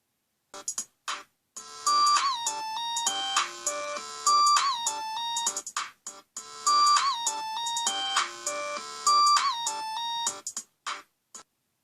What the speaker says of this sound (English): Meanwhile, Anastasia was finishing her coffee when her phone rang